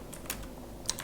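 Light typing on a computer keyboard while entering a search, heard as a few faint, sparse clicks over a quiet background.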